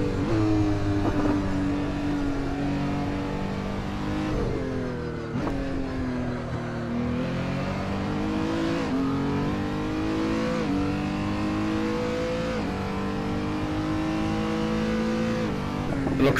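Renault R.S. 0.1 race car in the racing game Assetto Corsa on the Nürburgring, its engine revving and shifting through gears in rising and falling sweeps, loud and steady throughout, with faint voices underneath.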